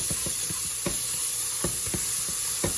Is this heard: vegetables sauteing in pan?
yes